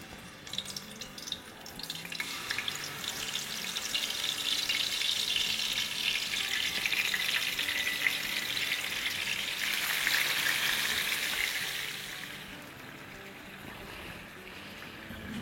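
Pieces drop into hot oil and fry, the sizzle swelling into a loud bubbling hiss that holds, surges again, then eases near the end, with no talking.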